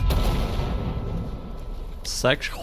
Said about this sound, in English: Whole section gone with a mortar.